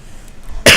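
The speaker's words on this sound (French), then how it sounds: "J'ai encore la toux" A single sharp cough bursts out at close range after a stretch of quiet background, loud and abrupt, then tails off quickly.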